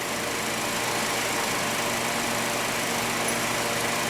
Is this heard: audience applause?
no